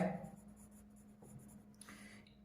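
A pen scratches numbers onto paper during a Class 5 maths place-value lesson, making soft, brief scraping strokes in a quiet room, faint and close.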